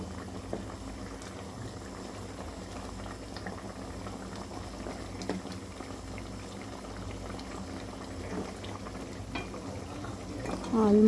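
Crab curry gravy simmering in a pot, a soft, steady bubbling that stays low and even throughout, with a brief louder stir or clatter near the end.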